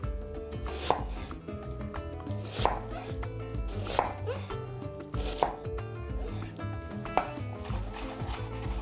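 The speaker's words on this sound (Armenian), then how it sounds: "Սրա կեսը մանր կտրատում ենք" Half a red onion being finely chopped on a board, steady rhythmic knife taps running throughout at close range with no one speaking.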